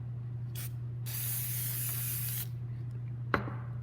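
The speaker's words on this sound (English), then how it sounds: "just going to shake up a little bit and spray onto the copy" A can of fixative spray sprays onto a paper copy in short bursts: a brief hiss, then a longer sustained spray of about a second and a half, a few faint puffs, and a small tap near the end, close and clear.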